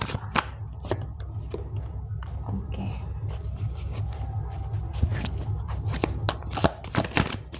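Tarot cards being shuffled and drawn for a Navratri collective reading, giving a run of crisp, irregular riffling and slapping taps close by, with no voice over them.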